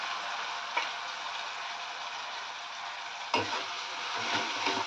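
Soaked lentils sautéing in a pan for an onion-greens dish, giving a steady, moderate sizzle with a few soft spoon stirs and scrapes.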